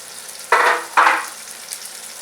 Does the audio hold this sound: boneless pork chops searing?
yes